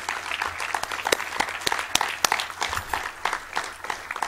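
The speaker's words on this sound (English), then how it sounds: "Give Peter a round of applause" An audience applauds a guest named Peter, steady clapping from many hands spreading through a room for several seconds, with brief louder bursts of individual claps.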